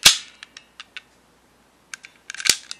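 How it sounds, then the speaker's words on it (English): A Kamen Rider Gaim candy-toy Lockseed lock being flicked open gives a loud sharp plastic snap, then a string of light ticking clicks, and a final cluster of snappy clicks, close up and with no talk. "The unlocking mechanism is the same,"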